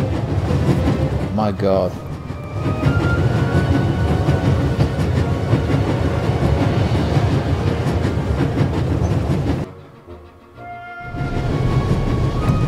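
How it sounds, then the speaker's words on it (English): A video-game train rattles along the tracks with a steady clickety-clack and a loud rumble that briefly drops out near the end, while a voice exclaims over it. "There's nothing quite like traveling on a train."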